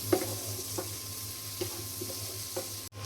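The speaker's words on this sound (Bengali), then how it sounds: "এখন পেঁয়াজ ভালো করে ভেজে নেব" Chopped onions frying in hot oil in a pan while cooking pabda fish with tomato; a steady, quiet sizzle runs throughout with a few soft stirring scrapes, then cuts off abruptly near the end.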